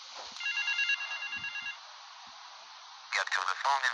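A telephone rings in the video game GTA 3 with a bright electronic trill, repeating in short pulses, followed by a second burst of warbling ring tones at the end.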